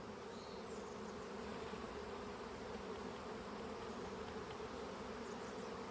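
Nurse honeybees swarm over a brood frame pulled from a hive, making a dense, continuous buzzing hum that stays close and even throughout, with no voices.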